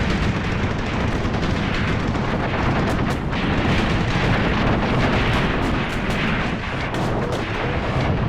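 Sustained, dense battlefield gunfire from BMP infantry fighting vehicles and infantry in the Graviteam Tactics: Mius Front wargame, a loud continuous roar of overlapping shots and booms with no let-up and no talk.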